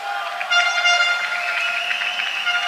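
Street strike crowd noise with car horns honking in the background, a dense steady blare of tones, heard at a distance and fairly loud.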